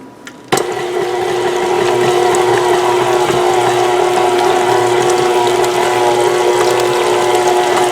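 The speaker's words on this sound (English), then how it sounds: "nothing beats a stand mixer, KitchenAid, my favorite, to blend up the cream cheese" A KitchenAid stand mixer switches on after a brief quiet moment and runs steadily, blending cream cheese with a loud, even motor whir and gear hum that holds without pause to the end.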